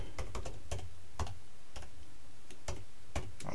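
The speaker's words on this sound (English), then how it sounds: "it's going to want you to type in your password" Keys tapped on a computer keyboard while a password is entered, a handful of sharp clicks in short bursts with pauses between, close and fairly quiet, with no talking.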